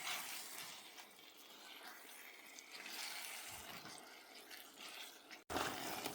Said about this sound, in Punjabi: ਹੁਣ ਕੀਮੇ ਨੂੰ ਅੱਛੇ ਤਰੀਕੇ ਨਾਲ ਭੁੰਨਾਂਗੇ